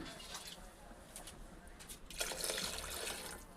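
Water is poured into a pan of brinjal curry for a village-style thin koradyas. A soft, close splashing and pouring rushes in about two seconds in and continues steadily to the end, with no talking.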